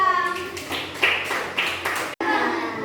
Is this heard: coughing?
no